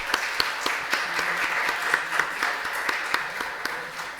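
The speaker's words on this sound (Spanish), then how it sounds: "Un aplauso para los tres." An audience applauds three panelists at a university event on the EU's global economic power, steady crowd clapping with distinct nearby claps standing out, sustained and even throughout.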